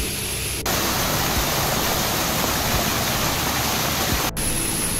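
Thommanam waterfall near Wadakkanchery rushes loudly and steadily as a dense, close roar of falling water, with no talking.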